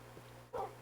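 A single short bark from a Minecraft dog, faint, over a constant low hum.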